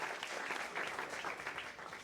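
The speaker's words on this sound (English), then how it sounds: "if you can give me a round of applause" An audience at a school district staff recognition ceremony applauds a graduating senior, a steady wash of many hands clapping, fairly faint and distant.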